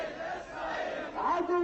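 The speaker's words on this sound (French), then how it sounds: "Au fil des slogans, la foule s'échauffe" A crowd at a Hezbollah rally shouts slogans together, a loud dense wash of massed voices rising in a rhythmic chant.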